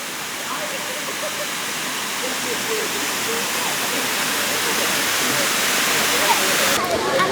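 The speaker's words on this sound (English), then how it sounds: "This is nice that you can swim right up to the waterfalls here and just sit at it with your back to it." Close, constant rushing roar of a waterfall in Ithaca, New York, a dense hiss of falling water that swells slightly louder toward the end.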